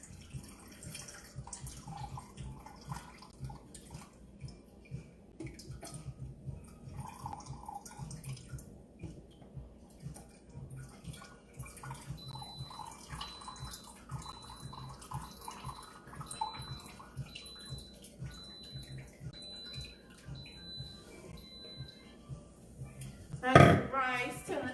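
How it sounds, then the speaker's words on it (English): Water drains from a pot of cooked rice in a home kitchen, soft trickling and dripping under faint background noise, ending in a sudden loud clatter of the pot. "Drain it real quick"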